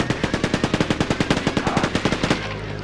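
In the PSOne version of Quake 2, an enemy fires at the player in a steady stream of evenly spaced rapid shots, about twenty loud reports in a row that stop abruptly near the end.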